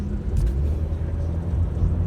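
Road traffic on city streets near an I-10 on-ramp, heard as a continuous low engine rumble and tire roar with a brief hiss near the start, steady and fairly loud, no voices.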